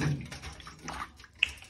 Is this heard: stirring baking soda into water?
yes